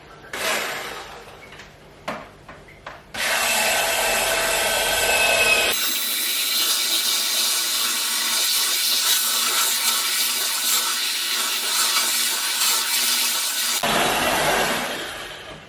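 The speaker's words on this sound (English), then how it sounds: "So, we use electric mixer." An electric mixer whirs steadily through a large batch of honey and water for mead, loud and continuous for about ten seconds after a few short starts and clunks.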